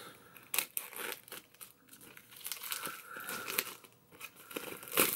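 Crinkling and tearing of plastic blister packaging being unwrapped from a HEAT steelbook, with irregular crackles and rustles close by and a few sharper snaps near the start and end.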